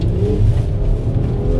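Volkswagen Golf 5 R32 engine pulling hard under acceleration, a loud, steady low-pitched roar that holds strong throughout with no talk over it.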